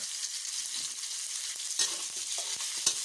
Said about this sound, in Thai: ไปผัดไปเคียวให้หอมนะคะ